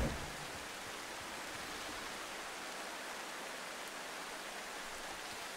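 Steady rain in the video game The Final Station, a constant soft hiss of falling water that stays even and unbroken throughout, faint and alone with no voices.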